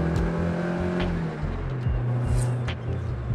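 A 1970s Toyota Celica 1600GT engine revs loudly and close, its low rumble rising and falling in repeated throttle blips under steady road noise.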